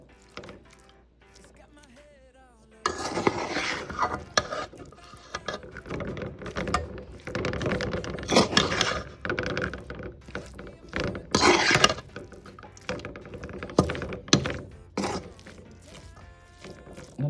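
Spatula scraping and clattering in a pan while cooked rice with bell pepper is tossed and mixed, a busy run of close taps and scrapes after a quiet start.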